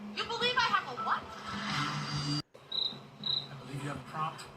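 Crickets chirp in steady high-pitched pulses, loud and close, while voices talk over them for most of the stretch, followed by a brief drop to silence and more chirping.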